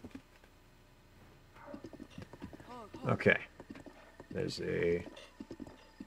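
A horse's hooves clip-clop in the video game Zelda: Breath of the Wild, a run of quick rhythmic hoofbeats with someone talking over them.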